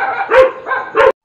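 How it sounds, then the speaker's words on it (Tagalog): Two loud, close dog barks in quick succession, each slightly drawn out, with nothing else around them. "maingay yung mga aso namin"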